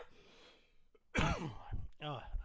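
A single short cough bursts out close to the microphone after a quiet, breathy moment, followed by a voice speaking.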